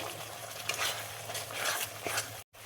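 Spices and peas sizzling in a pan for egg keema curry, a steady, close crackling hiss with occasional stirring scrapes, briefly cutting out near the end, with no talking.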